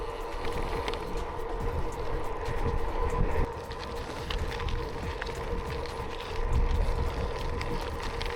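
Steady, blustery headwind roars against the microphone while cycling on a gravel bike, over a low rumble and light mechanical rattling, continuous throughout.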